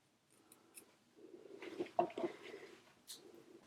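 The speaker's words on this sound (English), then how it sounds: "I'm gonna cut a slit" Scissors snipping a slit into the front of folded denim pants, a few soft close crunching cuts bunched together in quiet surroundings, with no talking.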